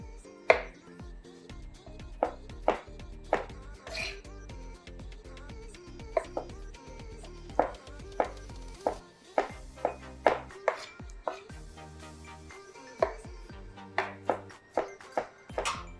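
Sharp knife chopping tomatoes on a board, a long run of crisp, uneven taps close by with short pauses between bursts, a faint kitchen bed beneath and no talk.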